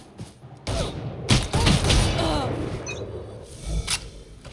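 Gunfire in the Valorant video game, a few sharp shots and bursts standing out over a busy mix of game effects and voices, with loud thumps near the start and end.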